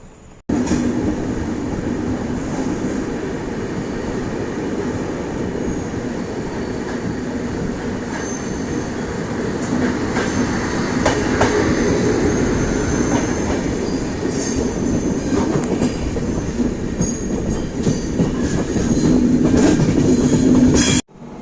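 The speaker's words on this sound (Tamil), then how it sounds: "நம்ம ட்ரெயின் 11:40க்கு வந்துருச்சு." A Shivamogga–Chennai weekly express passenger train rumbles steadily through a station, wheels clattering and occasionally squealing, with a continuous loud mechanical drone throughout.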